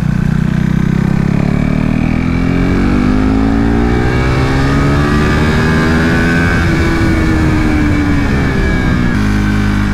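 A KTM RC 390 Cup race motorcycle revs hard on a track, its single-cylinder engine loud and close, rising and falling through the gears with a steady roaring drone throughout.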